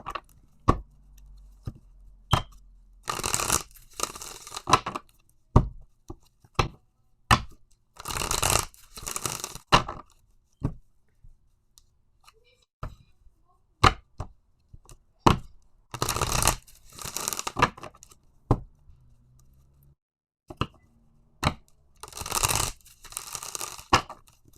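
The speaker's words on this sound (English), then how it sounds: "I hate that I can't shuffle that good." A deck of tarot cards is shuffled by hand in repeated bursts of crisp riffling and slapping, with quiet pauses between each round, close and clear.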